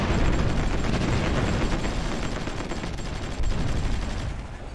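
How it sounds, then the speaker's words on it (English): Artillery fire in the strategy video game Supreme Ruler Ultimate, a dense, continuous rumble of overlapping booms and blasts with no pauses, loud and fairly distant-sounding. "For once, our artillery is doing an excellent job in taking out the enemy before the fight has even begun."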